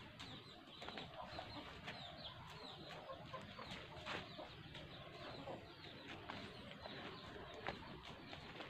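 Chickens cluck in a garden, with short, repeated clucks scattered over a steady, busy outdoor background and no talking.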